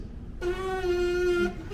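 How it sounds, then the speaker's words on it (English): A trumpet player's single sustained lip buzz, steady and close, lasting about a second before stopping. "We put our lips together and we blow some air through it."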